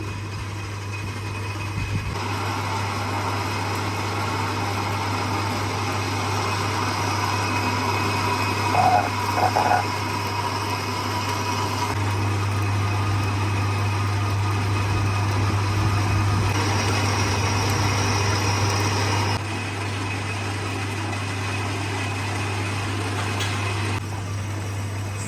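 A lathe machines a new iron rotor shaft, cutting a thread for a bolt: a steady motor hum with a continuous low drone and light metallic whine, running without pause and unaccompanied by speech.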